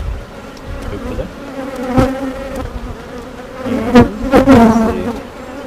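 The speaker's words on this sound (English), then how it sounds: "All the bees inside the box will probably worry about" Honeybees buzz steadily around an open hive box during a spring inspection, a continuous droning hum with louder passes from individual bees flying close, near and fairly loud.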